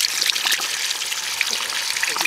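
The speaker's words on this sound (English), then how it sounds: "Bloody ice coming out of the hose." Water mixed with chunks of ice gushing from a garden hose on a freezing morning, a bright splashing hiss close by, fairly loud and steady throughout.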